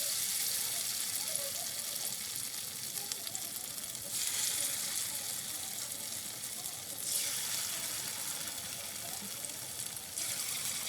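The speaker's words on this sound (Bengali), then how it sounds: "এদিকে বড়াগুলো ভাজা হতে থাক" Mustard flower fritters frying in mustard oil give off a steady, close hiss, swelling in slow waves as more batter goes into the pan.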